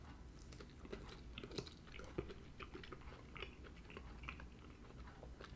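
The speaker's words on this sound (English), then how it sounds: "Let's take a bite." Faint, close chewing of a forkful of tender, soft-cooked collard greens at a soul food cafe in Houston, Texas: soft irregular wet clicks and squishes, with no talking.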